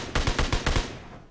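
A rapid burst of five or six gunshots in the video game PUBG Mobile, close and punchy in even succession, fading into a short echoing tail.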